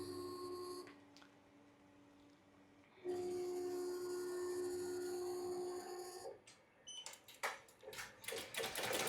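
Embroidery machine stitching to tack on pockets in a single-hoop composition-notebook cover project, with short runs of whirring, buzzing motor tones, a pause, then rapid clicking stitch bursts.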